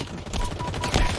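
Rapid gunfire in Halo Infinite, a short dense burst of overlapping shots and impacts from two players firing at once, loud and continuous for about a second.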